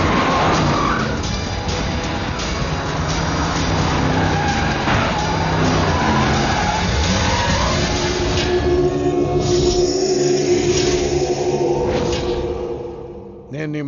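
In a Telugu comedy film scene, a car pulls away with tires skidding and screeching over a loud, continuous engine roar, while voices speak in the background.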